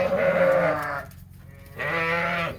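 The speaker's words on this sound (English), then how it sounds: "ewes to join their lambs." Sheep bleating close by on a farm, ewes and lambs calling: one long loud bleat, a brief pause, then a second drawn-out bleat.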